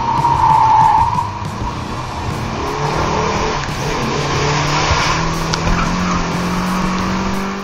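A Mercedes-Benz 190E 2.3-16 with a 40% limited-slip differential slides through a fast corner, tires squealing briefly as the engine holds a steady, loud drone, close by with no talking.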